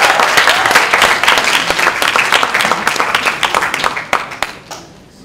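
Audience applause fills a Korean speech contest hall, dense and loud for about five seconds before fading quickly to near silence.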